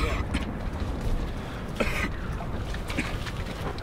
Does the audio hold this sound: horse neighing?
no